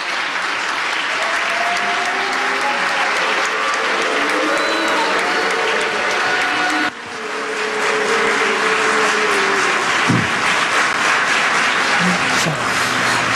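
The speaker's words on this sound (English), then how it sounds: "a mix of boos and applause at what has been a very interesting forum" Audience at Columbia University reacting after Iranian President Mahmoud Ahmadinejad's speech, a sustained roar of crowd applause mixed with booing that continues throughout, loud and dense.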